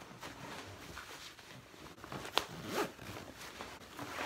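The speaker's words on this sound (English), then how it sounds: "I'm gonna zip this up and see" A bag being packed for a punk rock holiday is zipped shut, a close, continuous zipper rasp lasting several seconds with a sharper pull near the middle, no talking.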